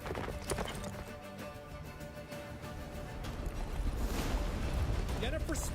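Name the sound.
horse Roach galloping hooves, Witcher 3 video game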